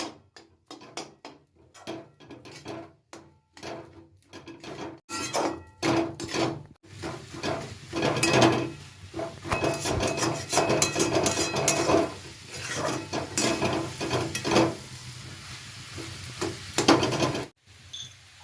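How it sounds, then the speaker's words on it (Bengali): Mashed potato is stirred and worked into a vegetable chop mixture in a pan, with repeated clattering scrapes and knocks of a spoon against the pan, irregular at first and then a steadier run of mixing. "আলুটাকে ভালো করে মিশিয়ে নিতে হবে।"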